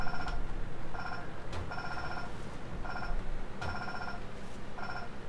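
A telephone rings in a regular pattern of short trilling bursts separated by brief pauses, fairly faint beneath a rumbling background with occasional thumps, and no voices.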